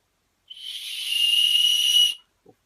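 A whistle-shaped lolly blown like a whistle gives one steady, shrill, airy tone lasting under two seconds, then stops, followed by a faint short knock.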